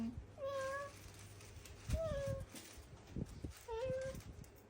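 A young child imitates a cat, giving three drawn-out meows spaced about two seconds apart, close and clear, with an adult voice talking softly between them.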